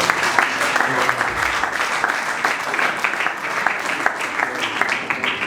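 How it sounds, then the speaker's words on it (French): An audience at a comedy show claps steadily and loudly for several seconds, a dense wash of hand claps with scattered cheers, no single voice standing out. "acclamez aussi très fort"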